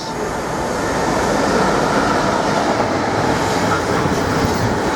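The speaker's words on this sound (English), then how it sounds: "About to race through platform 1 is intermodal service 4 Mike 87 from Felixstowe North Terminal to Daventry." An intermodal freight train races through platform 1 of a station, a loud continuous roar of wheels and wagons rumbling past close by for the whole stretch, with no voices.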